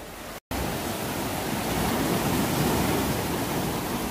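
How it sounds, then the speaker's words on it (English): Sea waves break against dark, volcanic-looking coastal rocks, giving a loud, continuous roaring wash that swells slightly after a brief cutout near the start, with no speech. "these waves are getting a little heavier on us here"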